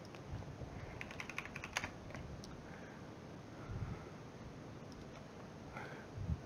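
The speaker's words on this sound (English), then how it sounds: "just type in Oculus right here up in the search bar" Keys tapped on a computer keyboard while entering a search term into a software search bar, a quick scattered run of soft clicks over steady low background noise, no voices.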